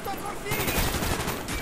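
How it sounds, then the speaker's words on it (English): Shotgun blasts in Call of Duty: Black Ops ring out in a dense, sustained burst of game gunfire lasting over a second, loud and close amid other combat noise. "One shot of a shotgun can kill me."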